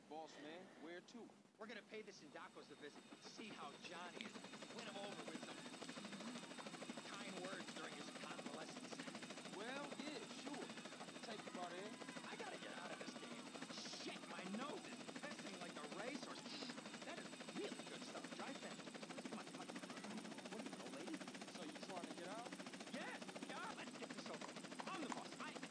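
Helicopter in the video game GTA San Andreas on Android, a steady, dense rotor and engine roar that fills the whole clip at constant level with no talk over it.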